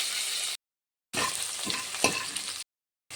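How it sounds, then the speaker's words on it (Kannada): Sizzling and stirring of onions, tomatoes and curry leaves frying in hot oil, in two bursts separated by silence, with a few soft scraping clatters. "ಇವಾಗ ಈರುಳ್ಳಿ, ಟೊಮೊಟೊ, ಕರಿಬೇವಿನ ಸೊಪ್ಪನ್ನ ಒಗ್ಗರಣೆಗೆ ಹಾಕ್ಕೊಳ್ಳಿ"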